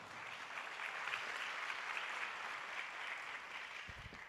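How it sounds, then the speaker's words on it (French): Faint, distant applause from the audience at the UNESCO African Week closing ceremony, a soft, even patter of many hands held at low volume throughout. "vous pouvez l'applaudir"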